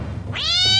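A cartoon cat, a monster just turned into a cat, lets out a single short rising meow, loud and close, alone without speech.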